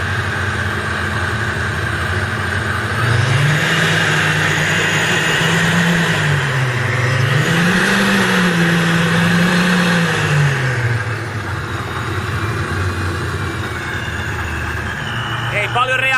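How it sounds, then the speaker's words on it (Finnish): A car engine revs up from idle while a pressure gauge is checked, loud and close, rising and falling in a few slow swells before settling back to a steady drone. "Annetaan vähän kierroksia."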